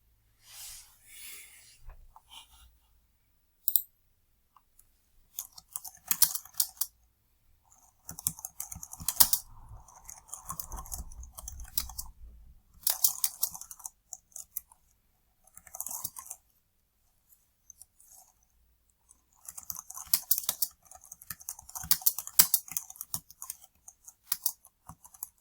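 Typing on a computer keyboard at a workplace desk, close and dry, with bursts of rapid key clicks broken by short pauses and scattered single taps; no speech.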